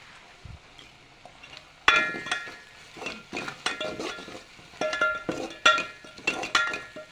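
A spoon stirs and sautés mutton masala with red chili powder in a pot, making close, irregular metallic scrapes and clinks against the pot over a faint sizzle.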